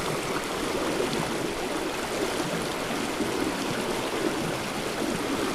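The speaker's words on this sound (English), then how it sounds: "See all down the brook. Starting to open up." A brook runs freely as ice melt opens it up, a steady, full rush of flowing water close by with no pauses and no voices.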